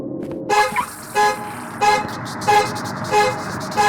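Car horn honking in an indie video game, where a ghost car sounds a series of short toots in a repeating rhythm, fairly loud and close, with engine and road noise underneath.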